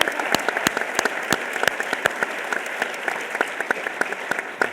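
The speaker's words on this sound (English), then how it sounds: "Big round of applause." Big round of audience applause for panelists at a forum on the 2010 Census, a full, continuous clatter of hands with distinct nearby claps popping out.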